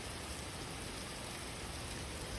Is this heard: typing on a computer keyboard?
no